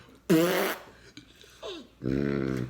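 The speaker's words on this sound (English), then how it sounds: "Excuse me, I'm not burping on purpose." A person burps out loud while eating extra cheese, extra pepperoni pizza and stromboli indoors. There are two separate burps, the second lower, longer and humming, with a short vocal sound between them.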